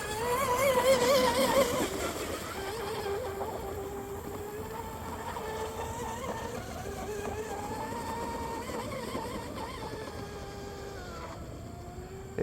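A DeltaForce 34 Vortex RC hydroplane boat with an SSS 4082 1600kv motor runs at full throttle, its high electric whine loudest at first and then holding steady and continuous.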